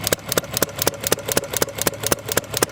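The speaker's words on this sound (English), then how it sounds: "Nice running engine. It's not a bad little mogul." An antique International Mogul engine runs on belt drive, driving a metal shaper. Its exhaust beats land in a steady, evenly spaced rhythm roughly every quarter second, loud and close, with mechanical rattle underneath.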